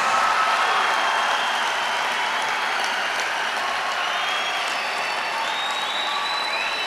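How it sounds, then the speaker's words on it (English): Audience at a college day celebration applauding retiring professors, a long, thick roar of many hands clapping steadily from a large crowd, sustained evenly with faint cheering mixed in. "Let us give a thundering applause for"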